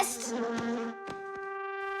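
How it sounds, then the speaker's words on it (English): A cartoon bee buzzing in a steady, close, tonal hum with a few soft thuds underneath, alone without talk. "It's just a plain old bee."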